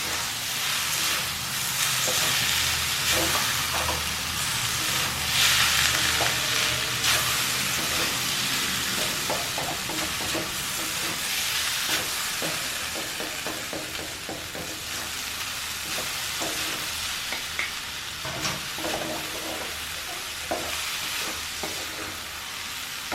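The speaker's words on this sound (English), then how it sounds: "Come on, now we are going to mix it nicely. Give it a good mix." Ching's whole wheat Hakka noodles being tossed with masala in a pan, a continuous loud sizzle and hiss with soft scraping and clinking of a utensil stirring throughout, close up and without talk.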